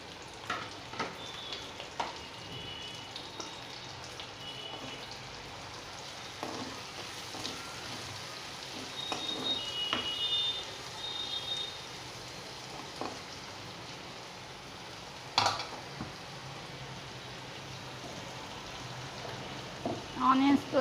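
Chopped onions frying in an oiled pan for a Telugu-style chicken fry, giving a steady low sizzle with occasional stirring scrapes and clatters, fairly quiet and continuous, with no voice heard.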